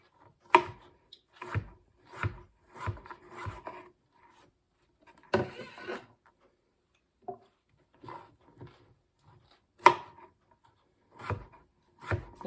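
Knife chopping food in a cooking video game, a series of sharp, separate dry chops and scrapes in an uneven rhythm with short pauses, close and fairly quiet.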